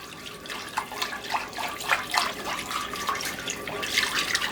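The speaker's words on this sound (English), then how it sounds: "I'm just going to whisk this together" A sauce mixture being whisked in a bowl: quick, irregular wet clinks and swishes of the whisk, moderately close, repeating steadily with no talk.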